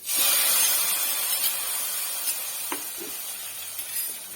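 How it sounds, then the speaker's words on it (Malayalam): Hot mustard tempering poured into mango curry bursts into a loud, broad hiss of sizzling steam that fades slowly into a softer sizzle with a few faint clicks. "കടു വറുത്ത് നമുക്ക് ഇതിനകത്തോട്ട് ഒഴിക്കാം"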